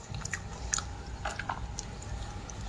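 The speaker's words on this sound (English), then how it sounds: "The sounds of them chewing," Mukbang-style eating sounds played back: close, wet chewing with soft crunchy bites and squishy mouth noises repeating steadily, with no talking over them.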